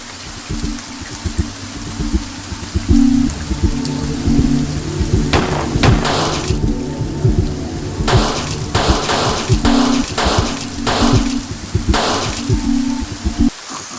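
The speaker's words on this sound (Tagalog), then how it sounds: "Kaganina pa ang nag Ulan ng ulan." Steady heavy rain pours down, loud and close, with rumbles of thunder and a repeating low hum running through it, with no voices.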